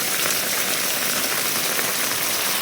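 Heavy rain pours down in a dense, steady hiss of drops striking surfaces. It is loud and unbroken throughout, with no voices.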